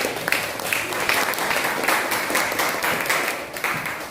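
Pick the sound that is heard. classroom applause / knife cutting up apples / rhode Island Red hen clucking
classroom applause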